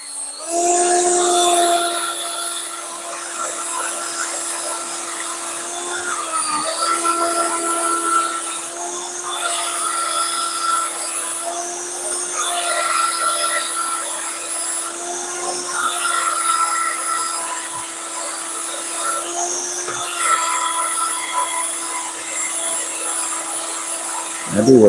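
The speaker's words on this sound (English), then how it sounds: "I couldn't tell you how many holes I've drilled with this thing." A hand-held power drill bores holes in metal while building a transmission stand, a loud, steady whining motor drone that sustains for long stretches with brief dips and surges, someone talking over it.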